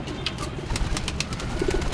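Pet pigeons cooing nearby, soft repeated low coos over a steady background hiss, close and continuous through the short stretch.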